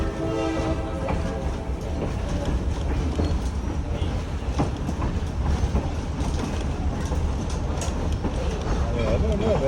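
A passenger excursion train bound for Dillsboro, Tennessee rumbles steadily along the rails with a continuous low roar and faint clatter, while voices talk over it throughout.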